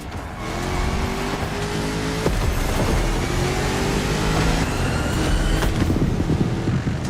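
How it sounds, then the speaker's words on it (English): A 1969 Mustang Boss 429 engine in the video game The Crew roars steadily, revving up through gear changes with rising whines and occasional tire squeal, loud and continuous throughout. "You're driving my #1 car, the star of my collection, the 1969 Mustang Boss 429."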